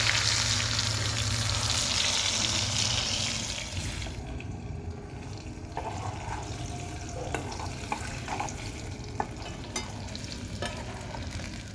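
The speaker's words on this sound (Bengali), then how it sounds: "এবার তেলটা গরম হয়ে এসছে, এবার আলুটা ছেড়ে দেবো।" Potatoes frying in hot oil in a wok sizzle with a steady, loud crackle, easing slightly partway through, while occasional clinks and stirring sounds break in.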